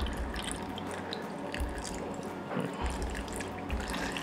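Kiwi and whisky cocktail poured over a glass full of ice, giving a steady liquid trickle and light drips with faint ice clinks throughout, with no talking.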